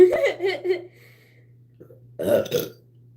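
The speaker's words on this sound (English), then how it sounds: "First burp of the night." A loud, throaty burp rumbles out, followed after a short pause by a second guttural belch; a low steady hum sits underneath.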